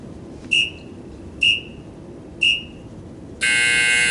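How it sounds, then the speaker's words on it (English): An interval workout timer during a HIIT session gives three short, evenly spaced high beeps about a second apart, then a longer, louder final tone, clear and alone with no talking. "it's going to beep down to let me know that 30 seconds is up"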